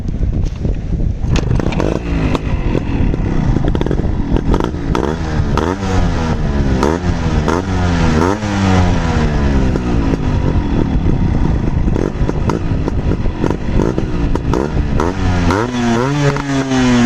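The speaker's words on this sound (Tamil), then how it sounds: "சவுண்டும் நல்லா சூப்பராக தாங்க இருக்குது" Yamaha RXG motorcycle engine while riding, a loud, close two-stroke buzz rising and falling through repeated revs and gear changes, with wind rumble and no talk over it.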